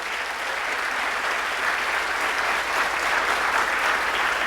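Church congregation applauding during a sermon, a steady wash of many hands clapping that holds evenly throughout, with no voices over it.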